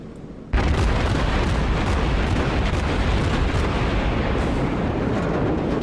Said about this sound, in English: I want to get a really good broadside on this guy.